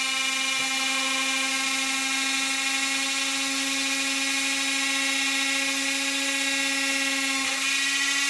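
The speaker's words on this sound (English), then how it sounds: "you've got to keep the drill vertical" Steady high-pitched whine of a small electric drill at low speed boring vertically through a Powerbase model railway track base, a constant tonal drone held throughout with no talking.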